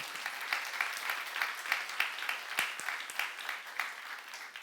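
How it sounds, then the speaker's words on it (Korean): A church congregation claps together during a youth sermon, steady crowd clapping with a loose rhythmic pulse, moderately loud and without speech over it. "박수 가세요"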